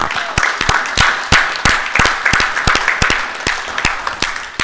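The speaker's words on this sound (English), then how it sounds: "one more round of applause" Audience applause rings out at a political forum after a guest speaker, steady dense clapping from a seated crowd with sharp individual claps standing out near the microphone, loud and with no voices.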